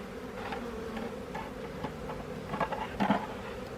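Honeybees from a docile, nearly swarm-like colony buzz steadily around an open hive with the inner cover off, a soft continuous hum with louder passes of individual bees flying close near the end.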